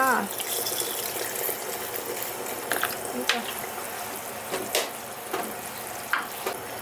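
Water is added to a simmering Thai curry as it cooks, giving a continuous bubbling, sizzling wash with a few sharp clinks and stirring knocks, fairly close and steady.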